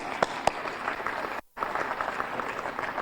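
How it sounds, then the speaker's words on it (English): Audience at a rural life conference opening session applauding, a dense, steady wash of clapping with a few sharp individual claps near the start and a brief pause in the middle. "An applause for you."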